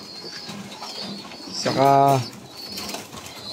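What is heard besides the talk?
checkered pigeons cooing in a loft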